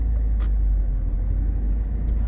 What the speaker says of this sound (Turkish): Şimdi hafif gaza vererek aynayı kontrol ederek çıktım.